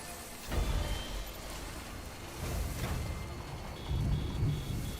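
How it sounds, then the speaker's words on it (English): Deep rumbles of thunder roll in twice over a steady hiss of rain in the video game Death Stranding, swelling and fading. "Oh, I hear thunder."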